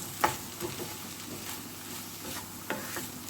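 Onion stalks fried with egg and spices in a pan, a steady close sizzle with a few light utensil taps and stirring scrapes over it.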